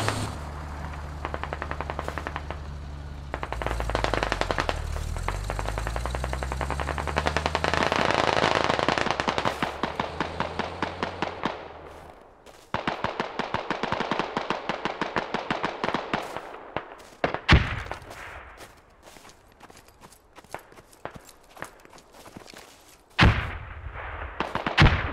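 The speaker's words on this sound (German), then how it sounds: "ich höre ihn schießen" Rapid bursts of gunfire in the video game Squad on the Belaya map, automatic rattles and single loud shots, with pauses between volleys and a heavy rumbling background throughout.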